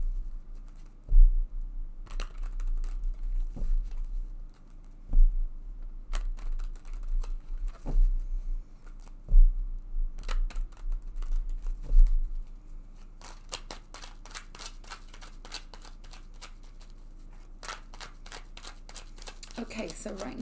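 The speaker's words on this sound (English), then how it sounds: "I'm just going to go ahead and shuffle this deck several times now" Tarot cards are shuffled repeatedly, with riffling bursts and soft thumps as the deck is squared, while a person talks quietly alongside.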